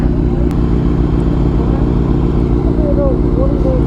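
A motorcycle engine idles nearby in a steady, continuous low rumble while riders gather for a group ride, with talk faintly audible over the engine noise.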